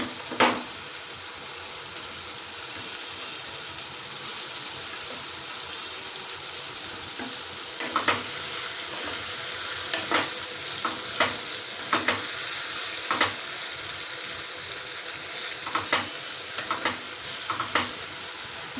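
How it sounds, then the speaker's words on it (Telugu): Tomatoes frying in a pan for ridge gourd moong dal give a steady close sizzle throughout, with sharper crackles and stirring scrapes breaking through in the second half; no one speaks. "ఇప్పుడు ఇందులో టమాటా వేసుకున్నామండి."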